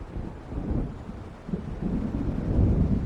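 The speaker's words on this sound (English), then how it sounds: "It seems there's a storm coming." Low rumbling thunder from an approaching storm in Alan Wake Remastered rolls under a steady blustery wash of wind and rain. The rumble grows somewhat stronger toward the end.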